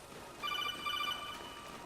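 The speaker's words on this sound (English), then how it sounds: "I apologize if you hear the Metal Gear Solid noise every now and then." A phone notification chimes with a Metal Gear Solid alert tone, a bright rapid trill of high electronic beeps lasting under a second over faint background hum.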